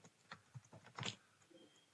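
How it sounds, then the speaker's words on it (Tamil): Fingers type quickly on a computer keyboard during a beginner CSS coding session, sounding as faint, close key clicks in quick irregular bursts, with one slightly louder cluster near the middle. "நான் ஃபாஸ்ட்டாக டைப் பண்ணிக்கிறேன்."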